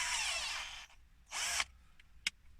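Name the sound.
drill with screwdriver attachment driving screws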